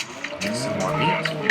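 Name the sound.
cow mooing in Minecraft video game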